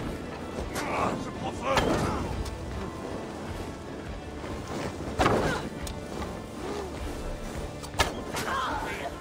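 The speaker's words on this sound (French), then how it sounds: "Wow, ça explose. Ça explose." Explosions in Assassin's Creed Valhalla gameplay, a few heavy booming crashes spaced through the clip over a low rumbling game soundscape, with someone talking excitedly.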